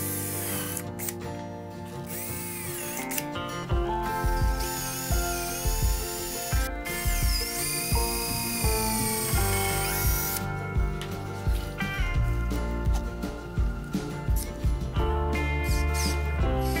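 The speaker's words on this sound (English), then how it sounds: "then went back to drill out a much larger pilot hole in the plywood edge for the actual lag screw" A power drill bores a pilot hole into the edge of plywood for a lag screw during a garage workbench build, giving whirring, rising bursts close by over steady background music.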